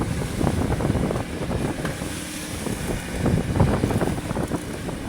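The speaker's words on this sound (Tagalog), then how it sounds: "Malakas yung hangin." Strong wind buffets a small fishing boat far out at sea, a loud continuous rush with choppy water and spray pounding against the hull.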